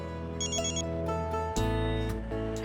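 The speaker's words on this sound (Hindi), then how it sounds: "फोन आ रहा है।" A telephone bell rings in repeated electronic trills, close and clear, over a steady low musical background with no talking.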